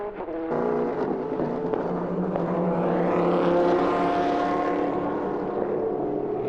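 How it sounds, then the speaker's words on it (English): Loud engine roar of race cars sweeping past at the 2001 Le Mans 24 Hours in wet conditions, a rising and falling drone with crackling pops and bangs layered over the continuous noise. "We hear popping and banging as they go past the microphones there."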